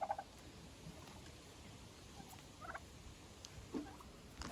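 Turkeys in a poultry yard give short, faint gobbling calls at scattered moments over a low, steady background of farmyard noise.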